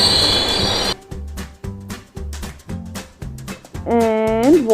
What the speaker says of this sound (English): Yeah, it's a bullet train.